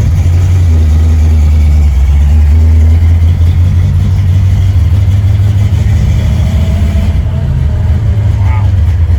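Loud, close drone of a 1970 AMC Rebel "The Machine" with a 390 engine and Borg Warner T10 gearbox pulling away on a test drive, a deep steady low rumble throughout with a person talking over it.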